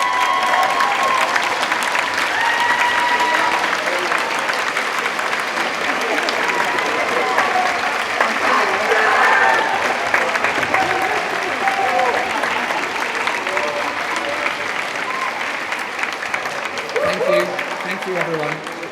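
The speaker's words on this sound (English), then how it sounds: "please stand and give all of your families a round of applause" Sustained applause from a large crowd of graduates at a degree ceremony in Birmingham, clapping steadily and densely for about nineteen seconds with a faint murmur of voices underneath.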